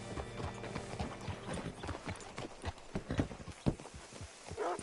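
Horse hooves clip-clop at a steady walking pace in Red Dead Redemption 2, the open-world Western game, moderately close and with no talk over them.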